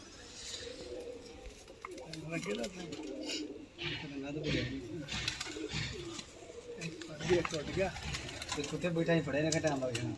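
Rooftop pigeons kept by a breeder coo in low, repeated bursts close by, with someone talking over much of the calling.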